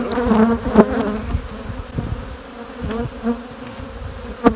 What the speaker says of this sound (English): Lots of field bees here.